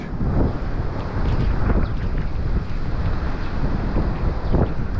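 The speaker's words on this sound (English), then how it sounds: "I hope the wind doesn't pick up too much." A strong gale blowing along the Paphos seafront in Cyprus, heard as loud, continuous roaring gusts buffeting the microphone with low rumble throughout.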